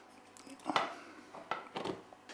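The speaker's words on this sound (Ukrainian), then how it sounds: "І відправляємо сирі гриби, відправляємо, щоб вони смажились." Raw mushrooms are tipped into a pan of melted butter, giving a few close clattering knocks of utensil against cookware over faint background hiss.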